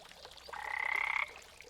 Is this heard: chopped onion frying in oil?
no